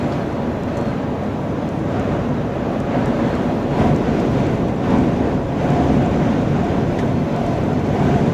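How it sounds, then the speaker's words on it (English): Blustery morning wind buffeting hard and steadily, a loud, dense low roar with gusty swells, close and constant throughout, with no voices. "Blustery this morning."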